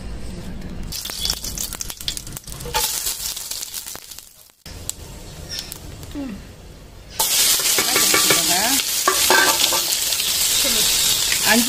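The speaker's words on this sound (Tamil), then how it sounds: "அஞ்சு வெங்காயம் கட் பண்ணி வச்சுருந்தேன், அதை போட்டுட்டேன்" Ghee with bay leaves, cinnamon, fennel, cardamom and marathi moggu crackles under stirring for prawn biryani, then sliced onions go in and a much louder, dense sizzle fills the rest of the clip, close and continuous.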